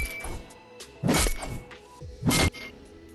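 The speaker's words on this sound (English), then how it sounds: "We have the Dragon Axe, which sounds like this." Dragon Axe pickaxe from Fortnite swinging and striking twice, each hit a sharp whooshing impact about a second apart, moderately loud with soft background noise between.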